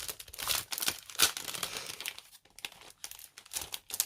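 Pattern paper from a papercraft subscription kit is handled and crinkled close up, with rustling and crackling bursts coming in uneven clusters and brief quiet gaps between them.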